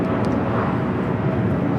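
KLM flight 601, a Boeing 787-10 Dreamliner arriving at LAX from Amsterdam, heard as a brief, steady engine rumble of moderate loudness, with no voices.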